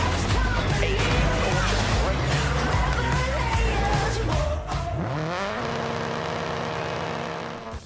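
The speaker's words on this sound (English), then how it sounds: "DiRT 4 is an off-road rally racing game broken up into 4 main disciplines." A rally car in the off-road racing game DiRT 4 roars loudly with engine revving and tyre skids on loose ground, busy and continuous, settling into a steadier engine drone near the end.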